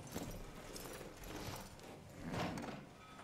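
Horse hooves clip-clop softly at a walk in Red Dead Redemption 2, a faint, uneven patter of steps that fades in and out and swells briefly near the end, with no voices.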